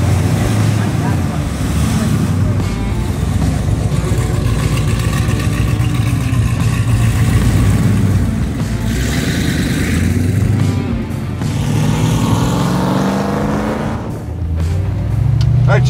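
A supercharged 1,000 hp Hellcat-swapped Dodge Dart drives along, with a loud, continuous engine roar and wind rush that swell and ease as it moves, and no speech heard.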